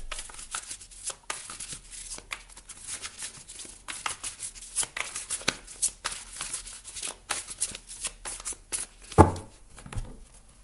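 Tarot cards shuffled by hand for a reading, a dry papery riffle and slide that comes in repeated soft bursts, close and fairly quiet, with a sharper louder flutter near the end.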